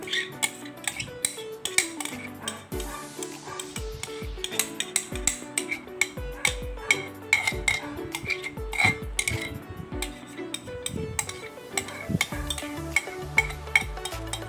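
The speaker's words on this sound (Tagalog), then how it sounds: "Gamitin natin ang ating tsara para masimot lahat." A spatula scrapes mango ice cream mixture out of a bowl in repeated quick strokes, with close clinks and knocks against the bowl amid a busy, uneven rhythm.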